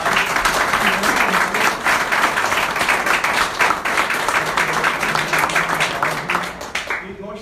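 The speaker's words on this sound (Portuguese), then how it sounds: "eu gostaria de pedir uma grande e calorosa salva de palmas para esses dois profissionais" Loud, sustained applause from a lecture audience for two doctors, with voices beneath it, fading out at the very end.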